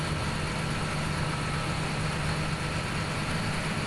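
John Deere 8370R tractor engine in Farming Simulator 17 pulling a plow, a steady low idling drone that holds at an even level throughout with no other sounds.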